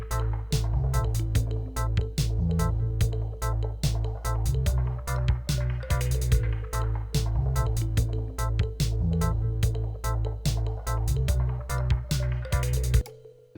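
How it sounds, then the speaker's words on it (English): A dubstep-style loop built in Ableton 11 plays on its own, with deep sustained bass under sharp, regularly repeating drum hits for about thirteen seconds before cutting off. "we'll be making a little loop in a dubstep style that sounds like this."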